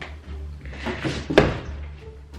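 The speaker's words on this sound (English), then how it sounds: "My cat just knocked over my lighting!" A sudden clattering knock of lightweight lighting gear knocked over by a cat, one sharp impact amid a low steady room hum, no talking.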